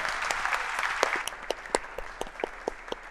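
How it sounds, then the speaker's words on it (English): Audience applause at a live concert, a crowd clapping steadily throughout with sharper individual claps standing out, fairly close and full, no talking over it. "Applause for Diane."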